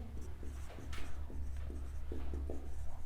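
A pen scratches steadily across paper in short strokes, close and quiet over a low hum.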